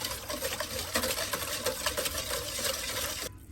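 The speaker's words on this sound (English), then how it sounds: "And then I'm going to whisk it in." Sweet potato pudding mixture for a Jamaican pudding is whisked by hand in a rapid, steady rhythm of close, crisp scraping strokes that stop abruptly near the end.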